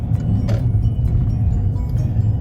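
A car pulls away from a stop line in first gear, its engine a close, steady low rumble throughout, with no voices.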